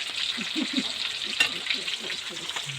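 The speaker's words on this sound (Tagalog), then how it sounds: "Ikaw yung nagprito dyan, pan?" Food fries in a pan with a steady bright sizzle and crackle throughout, with a brief clatter midway and faint voices murmuring underneath.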